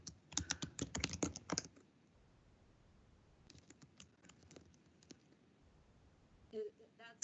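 Quick burst of computer keyboard typing, close and fairly loud, followed after a pause by a second, softer run of keystrokes and a few final clicks.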